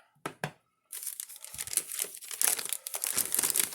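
A knife slices open a cardboard box from a knife unboxing, giving two short sharp cuts, a brief pause, then a longer run of crinkling, tearing and scraping close to the mic.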